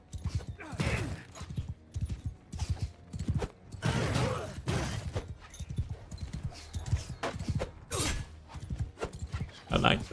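Cavalry charging into infantry in the medieval battle game Mount & Blade II: Bannerlord, with a steady clip-clop of hooves and clattering impacts while someone talks over the action.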